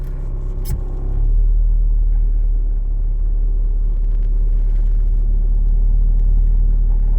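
A 1988 Mazda 626 in minus 43 degree cold pulls away after the clutch is released, its engine settling into a loud, steady low rumble close by after a brief quieter idle, with no talk.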